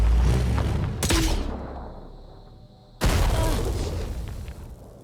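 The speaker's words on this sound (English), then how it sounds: "Let's use the grenade launcher now. This is like firing one Phoenix rocket." A grenade launcher fires in the tactical game Phoenix Point, two loud, close booms about two seconds apart. Each one cracks sharply and then trails off in a rumbling decay.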